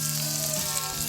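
Bacon and potatoes sizzle in a pan on a camp stove, a dense steady crackle of frying fat, close and continuous with no talking.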